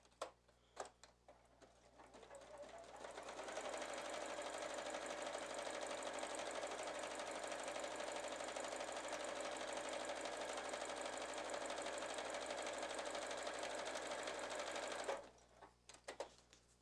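A sewing machine stitches the square neckline of a girl's sundress in one long, steady, fast run of needle chatter lasting over ten seconds. Brief handling sounds come before and after, close up, with no voice.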